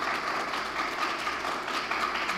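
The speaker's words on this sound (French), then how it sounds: "il y a un gros applaudissement pour UNV et DPC" Steady, dense applause from an audience filling a hall at a ministry certificate ceremony, with continuous clapping and no break.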